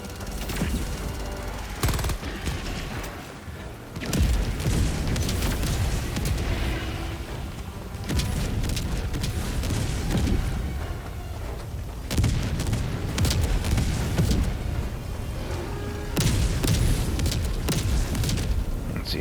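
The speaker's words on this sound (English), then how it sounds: "Orbital barrage incoming. Stand clear." Orbital barrage strikes pound the ground in Helldivers 2, a relentless string of loud booming explosions and gunfire-like crackle rolling on for the whole stretch in heavy repeating waves.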